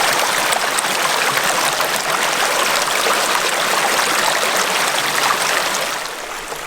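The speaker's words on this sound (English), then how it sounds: "this is the creek running down from the spring" A spring-fed creek in Surprise Canyon rushes and splashes in a steady, close, broadband babble, easing slightly near the end, with no talking.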